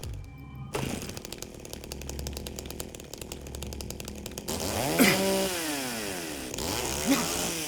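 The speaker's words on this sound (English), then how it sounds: "We've got a motherfucking chainsaw." A chainsaw in a horror video game revs and buzzes in sustained bursts, then shifts into sweeping, rising and falling whines as the blade works, loud and close with no talking over it.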